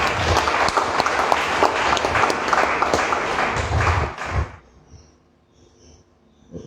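Audience applause at a Catholic social day gathering for speaker Hervé Sono, steady, sharp clapping for about four and a half seconds that then thins out into a quiet room.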